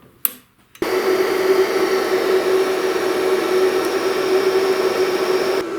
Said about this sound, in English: turn the machine on and feed the wire till it comes out of the MIG gun